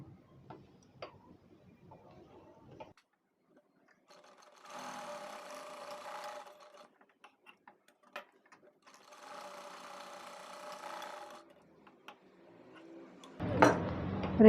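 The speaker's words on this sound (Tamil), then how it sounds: "ரெண்டு பக்கம் தையல் போட்டுட்டு இந்த சைடு தையல் போட்டுட்டு துணியை டர்ன் பண்ணி" A sewing machine stitches cloth for a frill frock bow in two quiet whirring bursts, with scattered clicks and handling noises between them and a louder clatter at the very end.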